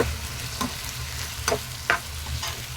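Mutton liver pieces frying and being stirred in a pan, a steady close sizzle broken by a few sharp scraping strokes of the spoon, with no talking.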